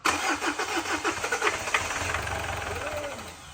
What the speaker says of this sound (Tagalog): So kita natin na patay-patay pa siya pero may balak na siyang umandar.